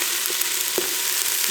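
Vegetables for homemade chicken noodle soup sizzle in a power pressure cooker, a steady loud hiss of frying broken by a couple of soft stirring taps, with no speech.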